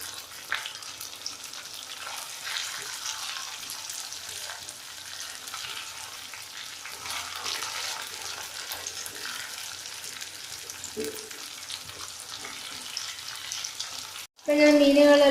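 Kingfish pieces fry steadily in oil in a pan, a continuous close sizzle with soft scraping as the fish is turned, ending abruptly.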